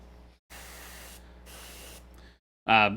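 An airbrush sprays acrylic paint in two soft, steady bursts of hiss for lighting effects on a miniature, and a short voice enters at the end.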